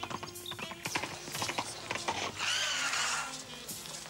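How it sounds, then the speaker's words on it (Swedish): Hooves clip-clop in a quick, irregular rhythm, with a clattering, mechanical rattle and a brief hiss joining partway through. "Nu ser jag en ryttare närma sig till häst."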